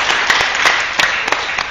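Dense, steady applause from a student audience at a campus stand-up comedy show in Makassar, a fairly loud wash of many hands clapping close together with a few sharper bursts, and no talking.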